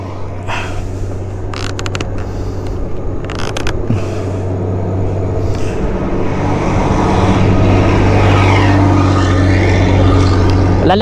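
A large truck rolls past on a road near a quiet private plot, its engine rumble swelling from moderate to loud and close over the last few seconds after some creaks and scattered background noise.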